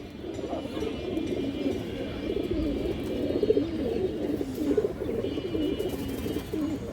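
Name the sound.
China khaki female pigeon cooing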